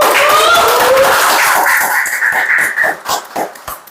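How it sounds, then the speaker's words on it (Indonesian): An audience claps and applauds at a Daihatsu car-care education event, a dense burst of clapping that is loudest at first and then thins into scattered claps, with some voices over it. "Tepuk tangan lagi buat DMS yuk."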